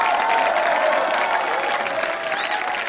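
An audience applauds steadily throughout a Republic Day special quiz show, with dense continuous clapping at a fairly close, even level and no gaps.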